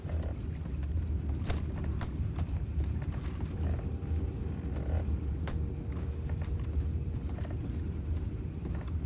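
Horse hooves clip-clop steadily in the game Red Dead Redemption 2, set against a dense low rumble with creaking and mechanical clatter, with no voices.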